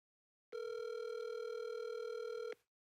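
Phone tone for an incoming call, a single steady electronic tone lasting about two seconds that starts and stops sharply, fairly quiet against a silent background.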